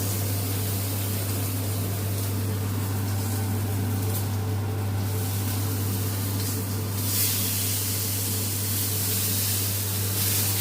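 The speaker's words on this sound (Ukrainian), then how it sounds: "підсмажуємо краєчки стейка, запечатуємо всі соки всередині" A T-bone steak sears in a hot pan with rosemary, a dense, steady sizzle and hiss that runs loud and unbroken throughout, with a low constant hum beneath.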